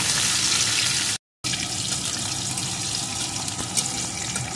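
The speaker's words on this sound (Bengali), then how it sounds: "এখন আলুটা একটু লাল লাল করে ভেজে নেব।" Salted potato pieces fry in a pan with a loud, steady, hissing sizzle close by, broken by one brief silent gap.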